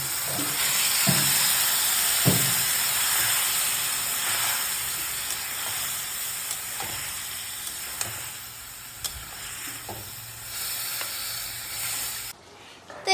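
Small chicken pieces cooking in a hot pan give a constant loud hiss and sizzle that runs almost unbroken, with a few faint stirring clicks, before the sound cuts off near the end.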